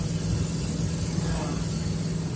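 Steady, close idle of a Ford Fairlane engine fitted with a glasspack muffler, a continuous low rumble with an even throb and no revving, running throughout the short stretch.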